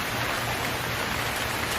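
Steady, dense rain pouring down in a jungle, a constant close hiss of drops with no pauses or voices.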